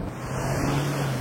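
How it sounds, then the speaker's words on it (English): Inside a Toyota Fortuner with a large hybrid diesel engine, a steady low drone builds under acceleration, with a hum and broad road and wind roar, close and loud, with no talking. "this is a big engine, it's a powerful engine, but it's also a noisy engine. You'll hear it groan and moan as you build the pace"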